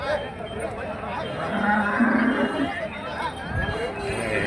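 A crowded weekly cow market at Nulvi, with cattle of good breeds gathered, fills the air with a broad, steady hubbub of crowd noise and animal sounds; people talk throughout and a low call rises in the middle.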